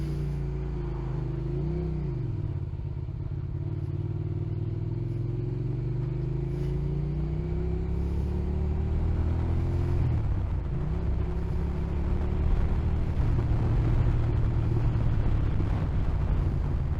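A car on a wet road in the rain approaches fast, its engine rumble and tyre hiss rising and shifting in pitch as it nears, loud and steady throughout.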